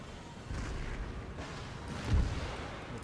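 Mortar fire in the strategy game Empire: Total War, heard as a faint, distant low rumble with one heavier thud near the end, no voices.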